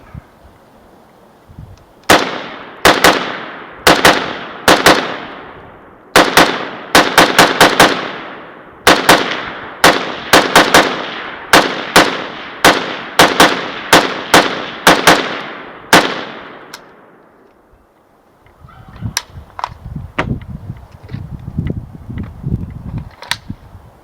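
A Romanian AK-74 rifle fires at target practice, with loud, sharp single shots and quick doubles spaced through most of the stretch, each ringing briefly before the next. Quieter handling noises follow once the shooting stops.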